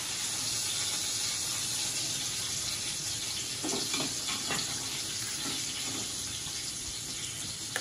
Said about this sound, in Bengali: পরিমাণ মতো জল দিয়ে দেওয়া হলো।